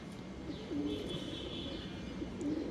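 Pigeons coo softly in short, low warbling calls against a steady background hum, one coo early and another near the end.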